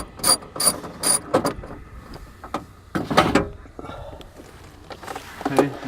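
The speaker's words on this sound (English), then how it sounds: "I am using a 10mm ratchet on these bolts." A 10mm ratchet turning bolts on the door of a 2003 Toyota Corolla, heard as short bursts of close, sharp clicking in several quick runs, separated by quieter pauses.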